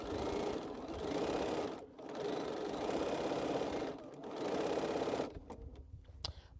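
A sewing machine joining quilt rows runs in fast, steady bursts of stitching with brief pauses, then sputters to a stop as the bobbin thread runs out, leaving a few faint clicks.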